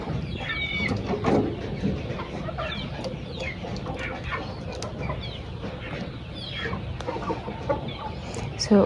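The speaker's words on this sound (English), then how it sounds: "So let's check on the chicks" Several chickens cluck near and far in a village yard after heavy rains, a busy overlapping chorus of short calls over low background noise, with no one talking.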